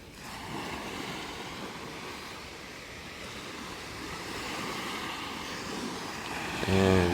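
Ocean waves at a beach roll in as a steady, full wash of surf, with a continuous breaking roar and a slight swell toward the end; no voices.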